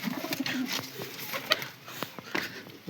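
Red Chinese pigeons coo in a loft, with several soft low calls and faint bird chatter over light background noise.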